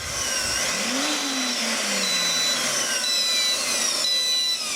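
A vacuum cleaner motor running from a 1500-watt Mishto inverter hums steadily throughout, with a rising then falling pitch early on as it strains to spin up, loud and close.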